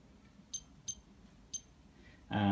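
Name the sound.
Cinestar drone controller transmitter beeping, no connection to helicopter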